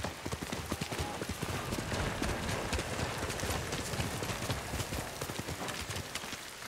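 Horse hooves galloping in the video game Ghost of Tsushima, a rapid, continuous drumming of hoofbeats at moderate volume with the steady rhythm of a running horse.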